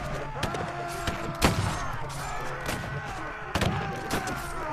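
Gunfire rings out in the naval video game Caribbean! during a fight around a Manila galleon, with two sharp booming shots standing out over a busy backdrop of battle noise.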